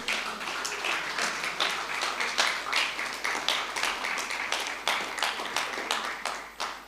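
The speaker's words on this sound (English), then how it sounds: "With a round of applause, please let's welcome PK to the red carpet." Audience applause welcoming a guest onto a red carpet at a live-streamed magazine event, steady dense clapping with rhythmic peaks throughout, fairly distant and moderately loud.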